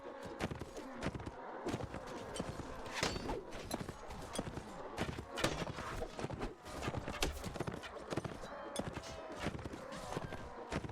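Horse hooves clip-clop in a steady, rapid rhythm in Mount and Blade Warband on Xbox, close and continuous, with a brief whinny-like sound partway through.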